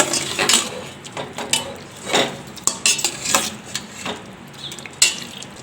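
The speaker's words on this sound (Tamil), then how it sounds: "இப்போ இதை சேர்த்து இதை நல்லா கறியோடு சேர்த்து மிக்ஸ் பண்ணி விட்ருங்க" Ground masala being stirred into chicken curry in a pot, a spoon scraping and clanking against the metal in an irregular rhythm, close and clear with a faint sizzle underneath.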